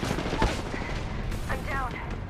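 Gunfire in a competitive ranked online video game, a burst of rapid shots ringing out over busy game sound effects and a player's voice.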